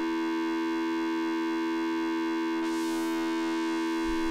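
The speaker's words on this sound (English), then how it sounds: "This is coming from oscillator 3's sine wave." A pure sine tone from the third oscillator of a modular synthesizer system hums steady and unbroken, joined midway by a brief rising, sweeping whoosh that fades back into the constant tone.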